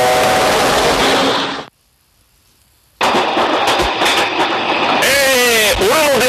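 A train runs in a video game, its rumbling carriage noise breaking off into a short silence and then resuming with rhythmic clicks, while a voice talks over parts of it.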